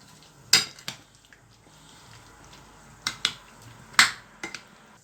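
Chicken leg pieces being mixed with biryani masala in a metal bowl, with sharp clinks and scrapes of a spoon in a few separate bursts of two or three, fairly close and loud, with quiet pauses between.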